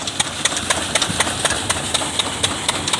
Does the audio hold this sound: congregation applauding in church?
no